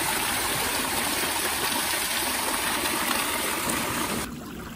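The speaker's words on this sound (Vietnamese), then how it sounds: "cái vòi nước mà chảy mạnh vào vai giống như là massage vai." A strong jet of natural hot mineral spring water gushes loudly and steadily into a bathing pool, a dense, continuous rush heard close up that drops away abruptly near the end.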